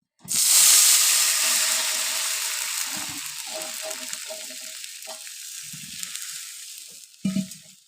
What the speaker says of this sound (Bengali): প্যানটি গরম হয়ে গেছে এবারে জল ঢেলে দেবো